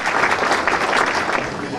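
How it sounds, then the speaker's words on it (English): Audience applause at a fall dance celebrating 100 years, a brief, loud, dense burst of clapping from a crowd in a hall, steady throughout. "A big round of applause for"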